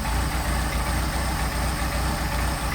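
A Mercedes 190SL engine fitted with Solex carburetors idles steadily up close, a continuous, even low rumble with no talking.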